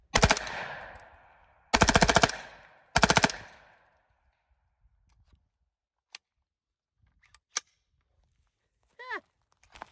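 Three loud, rapid bursts of rifle fire from a rifle fitted with a Hoffman Tactical Super Safety, each burst ringing out with echoing decay over the first three seconds, followed by faint clicks and a brief metallic rattle near the end.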